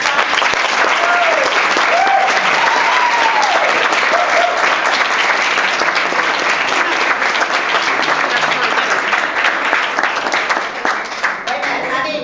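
Sustained audience applause at a fundraising celebration for an arts fund, a dense, steady wash of clapping filling the whole stretch, with faint voices and cheers mixed in before it thins toward the end.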